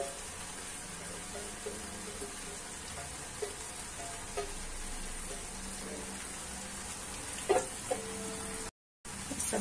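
Soft, continuous frying sizzle from poha added to spices in a hot pan, faint and steady, with a few light clinks of utensils and a brief dropout near the end.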